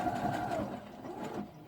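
A sewing machine stitches a zigzag on a skirt with a close, steady mechanical whir and rapid needle chatter that eases off toward the end.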